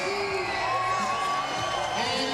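Crowd at a women's college volleyball match between the Aggies and the Lopes cheering and whooping as the third set begins, a busy roar of voices with a public address announcer's amplified voice over it.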